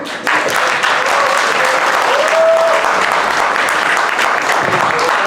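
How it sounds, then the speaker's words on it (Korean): Loud, sustained applause from a crowd at a fishing fan party staff appointment ceremony, a dense continuous clatter of clapping throughout. "박수!"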